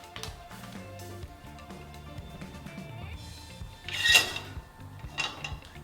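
A large pan is set on a stovetop for searing pork, giving close metallic clanks and scrapes, with one louder knock of cookware partway through amid quieter kitchen handling.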